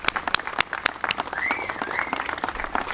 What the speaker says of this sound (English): Can we give applause for that?